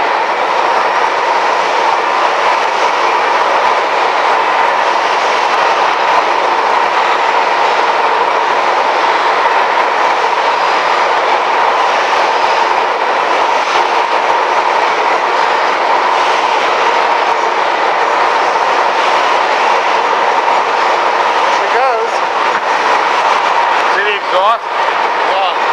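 Steady, continuous mechanical rumble of 1912 400hp Snow stationary gas engines running at a station, a dense unbroken drone with a faint rhythmic chug throughout, fairly loud and close.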